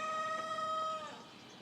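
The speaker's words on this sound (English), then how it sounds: "There's the chickens." A single rooster crow rings out from a moderate distance in a garden, one drawn-out call lasting about a second before fading into quiet background.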